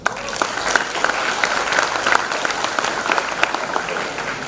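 An audience at an architecture event breaks into sustained applause, dense clapping filling the whole stretch at a steady level with a faint murmur of crowd underneath.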